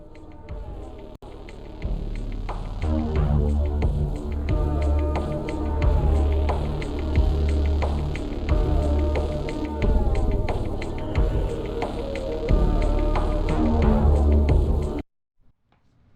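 Fast-paced film score of rhythmic synth keys over a bass line at roughly 148 beats per minute, pulsing steadily throughout before cutting off abruptly near the end.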